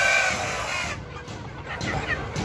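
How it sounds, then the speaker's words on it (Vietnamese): A flock of bantam chickens on a farm in the Mekong Delta region clucks softly at close range, a low ongoing chatter of hens and roosters. "Bầy gà tre này rất to"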